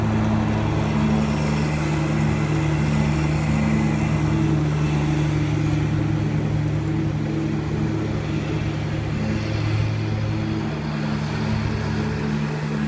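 A steady diesel zero-turn lawn mower engine, a Kubota ZD331, drones continuously at an even pitch, loud and close, with no voices and no change in speed throughout.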